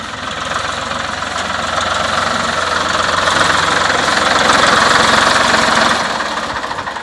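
A tractor engine, compared in a Ford 3600 versus John Deere setting, idles steadily up close with a rough, knocking rumble that swells slightly mid-clip and eases toward the end, with no talking over it.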